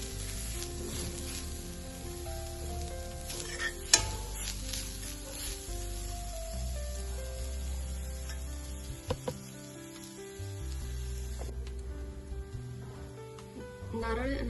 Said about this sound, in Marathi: आता आपण इथे ओला नारळ जो घेतलेला होता तर तो आपण इथे छान भाजून घेणार आहोत